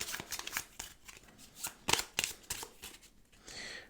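Playing cards for a Wingspan board game are shuffled close up in a quiet room, a series of crisp riffling bursts and soft taps in quick succession, with no talking.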